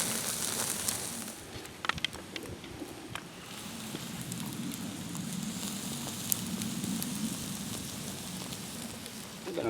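Steady crackle and soft sizzling of food charring over an open campfire in the Hoosier National Forest, with occasional sharp pops across a low rumble, no talking.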